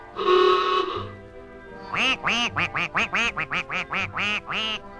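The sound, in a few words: ducks quacking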